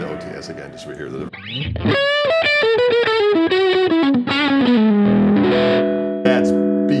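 Overdriven electric guitar plays through a Greg Koch signature amp with the OTS boost engaged, a singing, saturated lead line sliding down across sustained notes, loud and close, with no talking over it.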